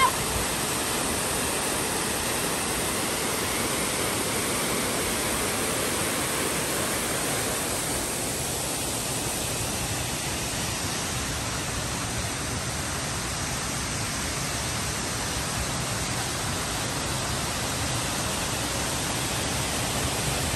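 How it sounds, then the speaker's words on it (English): Loud, steady broadband rush of flowing water, like a waterfall or fast stream, fills the whole stretch without a break, close and constant with no distinct voices above it. "just listen to the sounds of the water"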